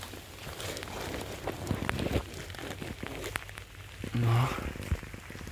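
Rain falling in a forest during mushroom hunting, a steady soft patter on leaves with occasional footsteps and rustling nearby, and a brief spoken word.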